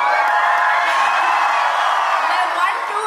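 A large outdoor crowd at the Maharajganj Mahotsav 2024 live stage show roars, whoops and shouts continuously, a dense, loud wall of cheering filling the whole stretch.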